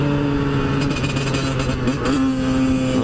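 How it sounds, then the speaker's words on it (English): Dirt bike engine revving while ridden, a loud continuous close drone with pitch shifting up and down and brief throttle surges, no talk. "I haven't been on this dirt bike in fucking forever"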